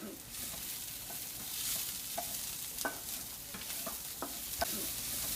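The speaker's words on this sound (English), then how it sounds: "Okay, and so now we have to stir a bit." Carrots with garlic being stirred in a hot pan, a steady sizzle under repeated scraping clicks of a utensil against the pan, close and fairly quiet, without talk.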